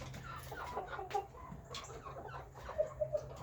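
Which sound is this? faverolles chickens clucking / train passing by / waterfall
faverolles chickens clucking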